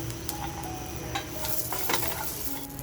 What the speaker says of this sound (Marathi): आता बघा ह्या स्टेजला आपण लसूण टाकून घ्यायची.